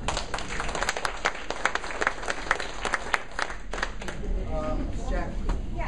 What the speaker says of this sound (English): So I'm going to applaud you.